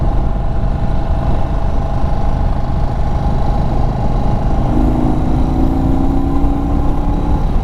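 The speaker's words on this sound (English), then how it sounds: "You hit the throttle and it wasn't jerky." An Indian Chief Bobber Dark Horse motorcycle engine runs steadily on a test ride, a loud continuous throb with a rising tone partway through as the throttle opens smoothly.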